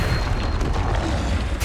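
The Confringo fire spell explodes in the Hogwarts Legacy video game, a loud, deep booming blast that rumbles continuously through the short moment with no voices.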